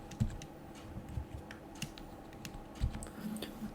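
Fingers tap on a computer keyboard in a quiet room, producing a handful of soft, irregular keystrokes and clicks, with a couple of slightly louder presses.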